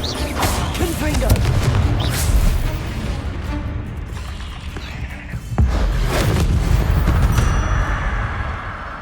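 Confringo blast spells cast in the Hogwarts Legacy video game, loud booming explosive bursts with crackling impacts layered over dense game effects, one strong blast around the middle.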